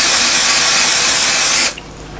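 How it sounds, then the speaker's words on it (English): Spray adhesive hisses onto quilt wadding in one loud, continuous close-up burst lasting under two seconds, then stops abruptly into near quiet. "what you're going to do is spray this wadding here."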